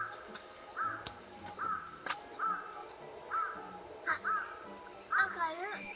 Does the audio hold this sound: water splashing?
no